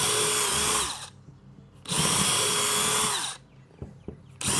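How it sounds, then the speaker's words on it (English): Power drill pre-drilling screw holes in wood, with two loud, close bursts of whirring separated by pauses holding small knocks and clicks. "We're going to get our drill and our little pre-drill tip"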